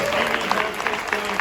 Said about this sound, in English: can you also give a big round of applause to our tech guy Clay